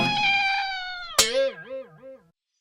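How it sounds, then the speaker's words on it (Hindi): A cat meows in a cartoon scene, a long drawn-out cry followed by a wavering, warbling meow that fades out, close and clear with no talk. "चाचा चौधरी और चंपत की बिल्ली।"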